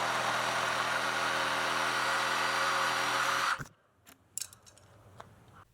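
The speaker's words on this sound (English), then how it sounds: "the jigsaw blade is realigned and additional smaller cuts are added here and there, some steeper and some shallower" Jigsaw cutting a wooden live edge shelf, a loud, sustained buzzing cut that stops abruptly partway through, followed by faint clicks and handling noises.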